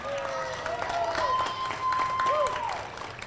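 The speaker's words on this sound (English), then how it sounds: "let's give a big round of applause for all the parents that make these things happen" Crowd applause for the Girl Scout parents at an outdoor Veterans Day ceremony in Manatee County, a steady wash of clapping lasting a few seconds with sustained tonal sounds running through it.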